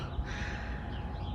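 Crows caw outdoors, the harsh calls blending into a steady wash of ambient outdoor noise, moderately faint and with no talking.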